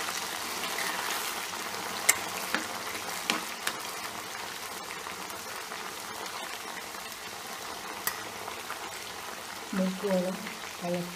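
Sliced jackfruit frying in hot oil in a wok, with a steady low bubbling sizzle throughout, a few sharp pops and clinks, and someone talking over it near the end.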